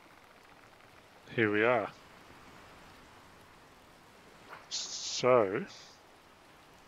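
Rain in the sailing game Sailwind, a steady soft hiss of rainfall running throughout at low level beneath two short bursts of someone talking.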